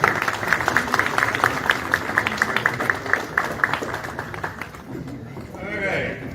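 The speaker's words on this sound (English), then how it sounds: "give him another round of applause" A community audience at a media channel's grand opening in Atlanta gives a round of applause, with rapid, close, dense clapping that thins out and fades near the end, followed by a brief voice.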